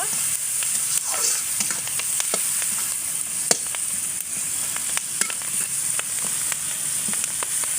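Chilies and onions fry in a pan for a spicy vegetable dish, giving a steady, close sizzle with scattered pops and crackles throughout.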